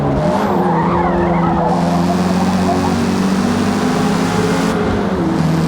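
Car tires in Forza Motorsport skid under heavy braking into a corner, a loud sustained squeal over a droning race engine that carries on without a break.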